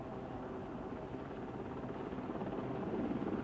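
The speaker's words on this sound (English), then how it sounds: "Helicopter downdraft steered life rafts away from the inferno." A helicopter hovering over a wartime sea rescue in the Falklands, its steady rotor and engine roar holding as a constant broadband drone that swells slightly louder toward the end.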